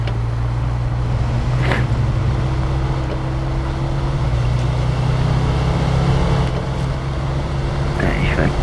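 A truck drives in the video game SnowRunner, its engine holding a loud, steady low drone with wind-like rumble throughout, while someone speaks briefly over it.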